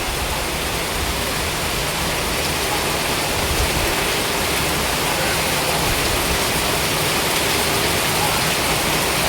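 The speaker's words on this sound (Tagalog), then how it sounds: "Heavy rain this afternoon. Hopefully the rain calm down because it starts flooding now." Heavy afternoon rain pours down steadily, a dense, loud, unbroken wash of hiss from start to finish with no voices.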